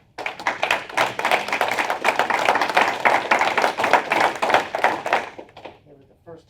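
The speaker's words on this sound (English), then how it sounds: "And let's give them a round of applause." A room at a Delaware County commissioners meeting fills with a burst of clapping, crisp individual hand claps from a modest group that start abruptly, hold for about five seconds, then taper off quickly, with some voices mixed in.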